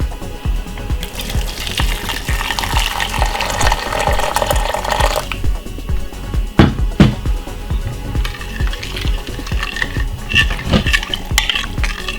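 Hot water pours and trickles into a cup with honey amid clinking of a spoon and dishes, with rhythmic light knocks throughout and a brief louder clatter midway.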